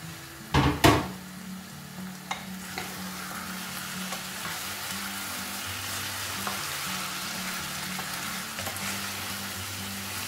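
Plantain and minced meat balls frying in a pan: a sharp utensil clatter near the start, then a continuous sizzle with occasional light stirring knocks, fairly quiet and with no speech.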